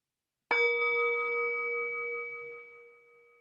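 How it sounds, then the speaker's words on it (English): A single meditation bell is struck once to open a sitting session, ringing with a clear sustained tone that slowly fades toward silence, heard alone in a quiet room. "when you hear the sound of the bell, to just listen to the sound all the way to its vanishing point"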